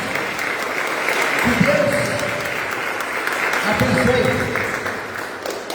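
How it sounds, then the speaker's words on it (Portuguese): A church congregation at a Methodist thanksgiving service in Cruz Alta claps in a dense, sustained round of applause that swells and eases, while a voice speaks briefly over it. "Uma salva de palmas, irmãos"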